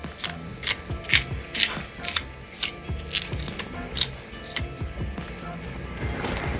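A knife chops a small piece of scallion on a cutting board in a series of irregular, sharp close taps with brief gaps, while faint talk runs underneath.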